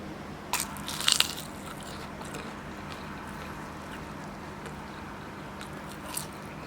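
Bites into a crispy cheese-filled fried pastry (pişi börek), heard as a few short crunchy snaps early on over a steady background hiss. No one speaks.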